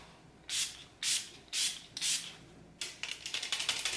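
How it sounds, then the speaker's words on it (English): Four distinct hissing bursts of Catrice Dewy Glow setting spray in an even rhythm, followed by a quick run of shorter spritzes, close and fairly quiet. "go in with the Catrice Dewy Glow Spray"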